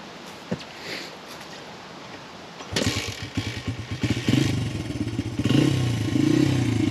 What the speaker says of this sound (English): you want to fire her up. So it's just a kickstart